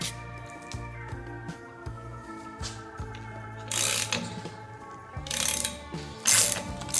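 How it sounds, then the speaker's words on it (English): Ratchet wrench turned by hand in a garage workshop while working on a boosted Volkswagen Karmann Ghia drift car, steady clicking strokes throughout with a few louder bursts of rattling, no talk. "You know it's serious too when I'm using a ratchet and not a impact."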